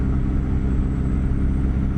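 A truck engine from American Truck Simulator, a Scot A2HD fitted with a custom engine sound mod, holds a steady RPM as a deep, even rumble that neither rises nor falls, loud and close with no talk.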